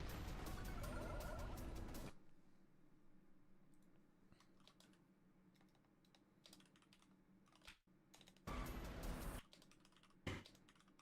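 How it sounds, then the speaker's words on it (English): Computer keyboard typing clicks away in rapid bursts, loud at the start, quieter through the middle and loud again near the end, with no voices. "Typing out his messages."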